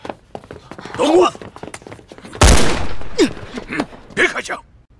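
A burst of gunfire in an adventure film set in an underground golden spider city, a loud sustained volley around the middle, surrounded by thuds, footsteps and shouted voices.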